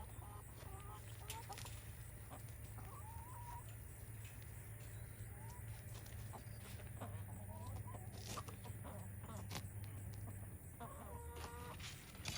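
Backyard chickens clucking in a small garden space, several soft, irregular clucks and calls at middle distance over a low background hum.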